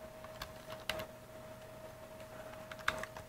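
Letters are typed on keys, giving a handful of faint, irregular clicks spaced over a few seconds against a quiet, steady electronic hum.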